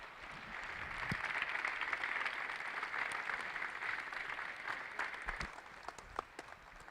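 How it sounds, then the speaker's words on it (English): Sustained applause from a hometown crowd at a homecoming celebration for the Brandon Valley wrestling team, a steady wash of many hands clapping for about seven seconds with a few sharper claps standing out near the end. "I need you to give one big round of applause for the future Brandon Valley Hall"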